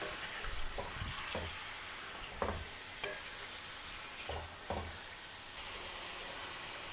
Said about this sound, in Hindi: अब हम इसको थोड़ा सा हल्का फ्राई करेंगे।